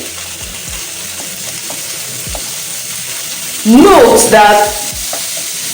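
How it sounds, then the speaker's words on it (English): Minced meat and onions stir-fry in a pan with a steady low sizzle, while a voice speaks briefly over it and a louder swell of talk or movement rises near the end. "We're going to stir fry this too till it becomes pale."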